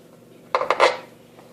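A knife cuts through a bougatsa, a custard-filled phyllo pie, giving three quick crisp crackling crunches close by before the sound fades to quiet.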